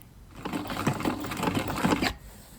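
A sewing machine stitches a dart in a skirt, a short quiet run of rapid, even needle clatter that stops abruptly.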